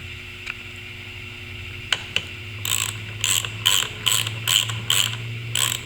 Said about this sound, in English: a couple turns on the nut.